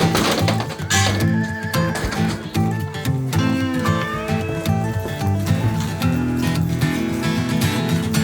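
Horses being readied for a mountain ride to a bivouac, a whinny or two and shifting hooves heard under a dense, loud music bed.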